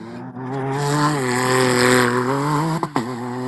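A rally car at the stage 3 car start of the 2025 Abu Dhabi Desert Challenge, its engine holding a loud steady drone as it pulls away, with a couple of brief bumps near the end.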